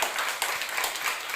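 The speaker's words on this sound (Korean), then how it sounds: "누군지 모르지만 격려의 박수로 한번 해주세요." A church congregation applauds during a Sunday worship service, a dense, steady wash of many hands clapping at moderate distance throughout the brief moment, with no voices over it.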